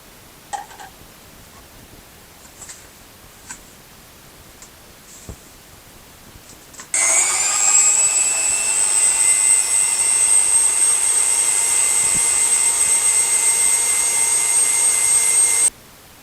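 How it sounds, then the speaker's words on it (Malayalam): A blender whirs through fresh strawberry juice at a strawberry farm in Kanthalloor. After a few quiet seconds the motor cuts in abruptly and runs as a loud, steady, high-pitched whine for about nine seconds, then stops. "അങ്ങനെ നമ്മൾ സ്ട്രോബെറിയുടെ ഒരു ഫ്രഷ് ജ്യൂസ് അടിച്ച് കുടിക്കാൻ പോവുകയാണ്"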